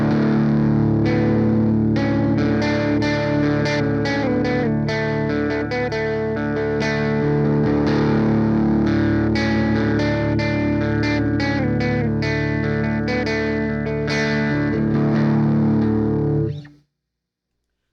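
Electric guitar through a Boss Blues Driver overdrive pedal, a dense run of gritty, saturated chords and notes played continuously at steady loudness, then cutting off abruptly near the end, with no talking.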